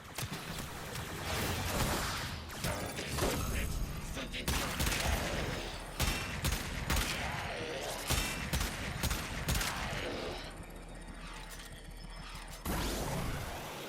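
Aklex Prime pistol gunfire in the Warframe video game, rapid bursts of sharp shots mixed with impact and ability effects, dense and loud throughout, with a voice talking at times.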